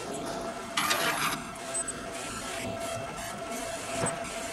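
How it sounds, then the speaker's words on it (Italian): A Primera Eddie edible ink printer printing onto a sweet, giving a continuous mechanical whir with a steady tonal hum and a couple of brief rattling carriage passes, without talk. "e con la freccia ridò il comando di stampa"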